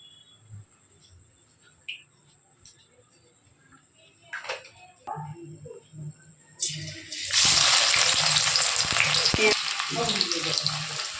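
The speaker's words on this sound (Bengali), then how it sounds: "এই সরু সরু করে কেটেছিলাম, এগুলো ভেজে নেব।" Sliced onions drop into white oil in a wok and burst into a loud, dense sizzle that holds steadily to the end, after a few quiet kitchen clinks and knocks.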